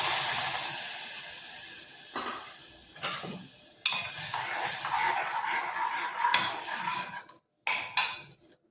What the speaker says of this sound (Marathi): हळद आणि आपल्याला ही डाळ ओतायची